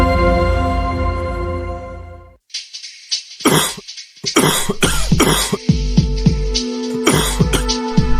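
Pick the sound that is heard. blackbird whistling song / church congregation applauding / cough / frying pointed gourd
cough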